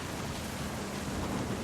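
A steady, dense wash of heavy rain with a low thunder rumble fills a thunderstorm scene in the video game What Remains of Edith Finch, continuous and enveloping with no pauses.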